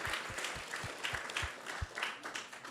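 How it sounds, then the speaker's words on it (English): Audience clapping at a spiritual discourse gathering, a soft, somewhat distant round of applause with a few individual claps standing out and irregular swells. "So let's give them a big round of applause as well."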